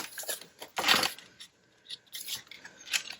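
Scissors snip through paper in several short, crisp close-up cuts with brief pauses between them, slicing down pieces for envelope pouches, and no one speaks.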